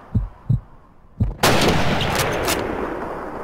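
A single loud rifle crack in the Call of Duty 2 Russian campaign, preceded by a few soft thuds and followed by a long rumbling echo that fades slowly.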